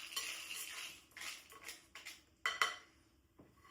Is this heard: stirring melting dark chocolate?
yes